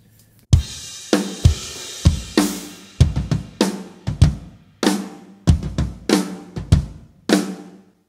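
A drum kit plays the transition into the second verse of a song, punchy tom and kick hits with crashing cymbals in a driving, uneven rhythm, loud and close, with no voices.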